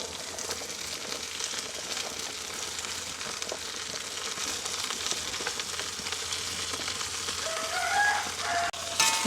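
Onion, green chili, beans, potato and carrot fry in a pan with a steady, dense sizzle close by, growing slightly louder toward the end with a few brief clinks of stirring.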